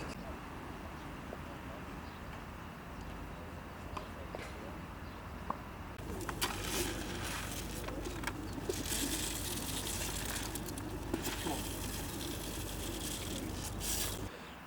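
Soft racing pigeon coos and fluttering under a busy background of chatter and flock noise from hundreds of birds, growing denser and louder halfway through.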